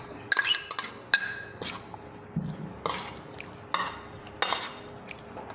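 Utensils clink and scrape against a bowl or plate while pickled mustard greens are added to a dried shrimp salad, giving sharp metallic taps scattered irregularly, close and fairly quiet.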